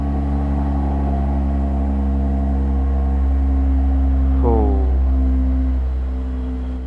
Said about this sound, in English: I don't want to break my bike, but we'll just stay here and hear the exhaust